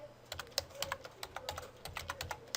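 Quiet typing on a computer keyboard, a quick irregular series of soft clicky keystrokes lasting a couple of seconds, close and alone without talking.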